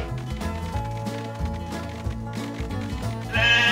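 Cartoon sheep in a Paw Patrol children's game bleat over a bouncy, loud music backing, the animal calls mixed into the tune rather than standing alone.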